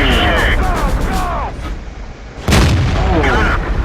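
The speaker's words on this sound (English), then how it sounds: "He stuck his head out and let the T-28 prototype shoot him once." A T-28 prototype tank cannon firing in World of Tanks: one loud, close booming shot bursts in partway through, set over engine rumble and game effects, with a voice talking through parts of the clip.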